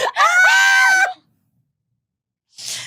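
Loud screaming from hosts on a live Manila radio love-advice show, one sustained strained shriek lasting about a second, then silence before a shorter breathy cry.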